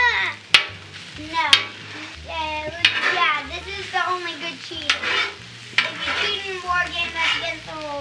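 Fried rice made with Kikkoman fried rice seasoning is stirred in a frying pan, a steady sizzle with scraping strokes and a few sharp utensil clacks; a child and an adult talk over it throughout.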